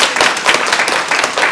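Dense, steady audience clapping fills a launch event for a home mortgage ownership initiative, close and loud throughout with no pauses.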